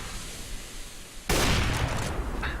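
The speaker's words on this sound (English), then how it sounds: "Huge op shot from Mikis." A sniper rifle shot in a competitive team shooter match bursts in sharply partway through, loud and close, followed by a sustained noisy tail and a brief later flare, with no talk over it.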